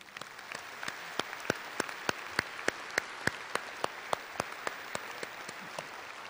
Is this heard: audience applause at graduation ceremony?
yes